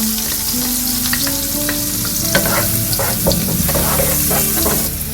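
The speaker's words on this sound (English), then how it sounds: "When the butter is melting, I'm just going to add some onions to it." Diced onions frying in melted butter in a pan, with a steady hiss and sizzle under irregular scraping stir strokes and a faint tonal hum, continuous and close throughout.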